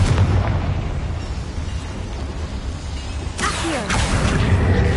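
A Confringo spell explodes in the Hogwarts Legacy video game with a loud, dense roar that carries through the whole stretch, and a sharper burst near the end.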